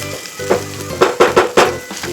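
Chopped onion with ginger-garlic paste fries in a pan, a close sizzle punctuated by several loud, rhythmic scraping strokes as the mixture is stirred.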